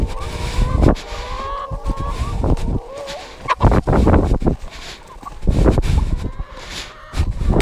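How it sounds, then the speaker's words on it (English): Chickens out in a pumpkin patch cluck and gobble-like squawk nearby, irregular bursts of fowl calls mixed with rustling and a few thumps, fairly loud and close. "And the chickens are out in the pumpkins."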